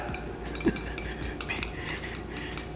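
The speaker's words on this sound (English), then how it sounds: "So now I'm just making my eggs scrambled." Metal utensils clink faintly against a pan while scrambled eggs are being made, with one sharper clink standing out over a low, steady kitchen background.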